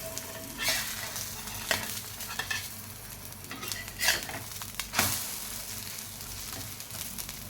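A millet flakes omelette sizzling and frying in a pan, a steady close crackle broken by several sharp scrapes and clinks of a spatula against the pan; no talking.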